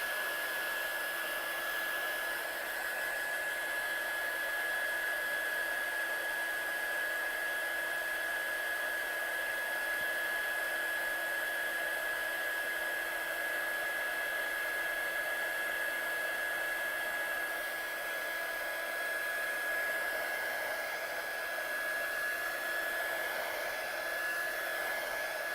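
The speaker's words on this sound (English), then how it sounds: "I'm going to push it a little bit by just drying it off with my gun" A heat gun blows steadily over stamped paper to dry metallic ink, one continuous close whirring hiss with a fixed tone that barely changes throughout.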